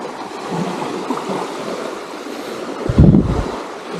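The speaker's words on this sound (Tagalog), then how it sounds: "Ay, nag-high tide na. Yan na yung tubig." Ocean water washes in at high tide on Nu Palm Beach in San Narciso, Quezon, a steady rushing surf mixed with heavy wind buffeting the microphone and a strong low gust near the end.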